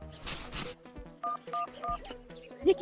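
A phone is dialed, giving a short series of distinct keypad tones at an even pace. A brief burst of noise comes first and some low background sound runs underneath.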